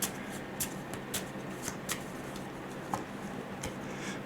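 Tarot cards shuffled and slid from a deck, a steady papery rustle with scattered soft flicks and taps, close and fairly quiet, no talking.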